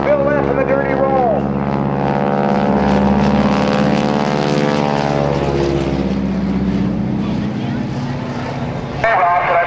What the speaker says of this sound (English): Over he goes, Bill Leff in the dirty roll.